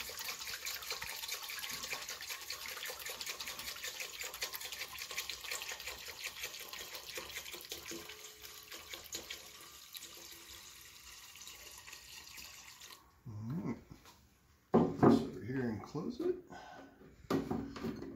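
Liquid pours into a container to make room for submerging items, a steady trickling rush running for about thirteen seconds before stopping, followed by a voice talking.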